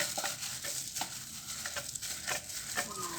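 Thai Isan sausage filling of rice and meat is mixed by hand, giving soft, wet squelching and patting sounds in an irregular rhythm, quiet and close.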